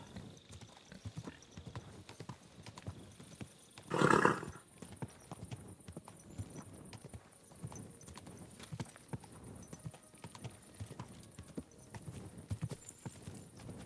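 Quiet hoof clops over a low, steady background, with one louder burst midway that sounds like a horse's whinny or snort.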